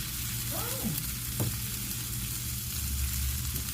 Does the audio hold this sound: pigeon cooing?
no